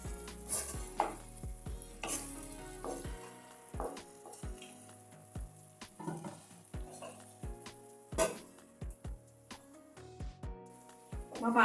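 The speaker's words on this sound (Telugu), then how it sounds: "ఒకసారి బాగా కలిపేసి మూత పెట్టుకుందాం" A spoon stirs gongura dry prawn curry in a pan, making soft scrapes and clinks over a faint sizzle, with a few sharp knocks against the pan. Quiet music plays underneath.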